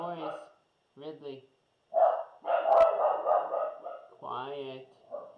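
Two hunting dogs bark nearby in loud, uneven bursts, mixing sharp single woofs with longer runs of yapping and a brief whine.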